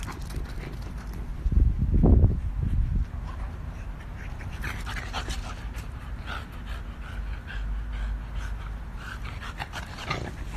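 A big dog pants steadily, loud and close at first, then softer, with scuffling movement around it and no talk.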